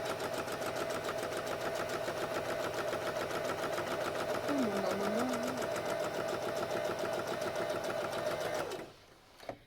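A sewing machine runs at a slow, steady pace for about nine seconds, its needle stitching in a continuous mechanical whir with a rhythmic tick, loud and close, before stopping abruptly near the end.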